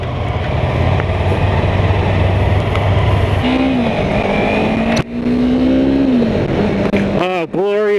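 Steady wind rush while riding a 2015 Yamaha R3 sport motorcycle, a loud broadband roar blended with a buzzing engine note that rises in pitch as it accelerates, with a brief dip near the end.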